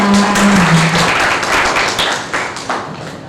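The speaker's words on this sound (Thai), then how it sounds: "ขอเสียงปรบมือด้วยค่ะ" Audience applause at a provincial business event in Nakhon Ratchasima, a loud, dense wash of clapping from a crowd that holds steady and then gradually thins toward the end.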